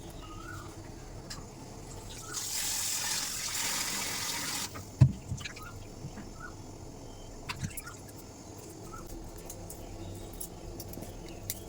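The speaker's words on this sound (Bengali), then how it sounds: "তো আমি একটুখানি মাছটা ধুয়ে নিই" Bata fish being washed in water in a home kitchen: a tap gushes for a few seconds, then stops, followed by a sharp knock and scattered light splashes and handling noises, with no talking.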